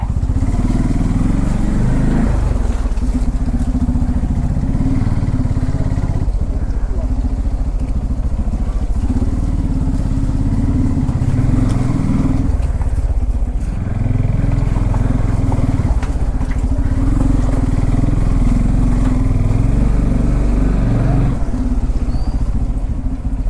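A Bajaj Pulsar N250 motorcycle engine drones loudly and continuously up close in first gear, with rattling and clatter as the bike moves at low speed through a narrow lane.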